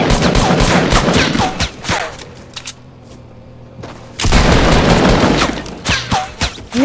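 Rapid automatic gunfire from Fortnite Battle Royale, loud dense bursts that stop for about two seconds and then resume just as heavily.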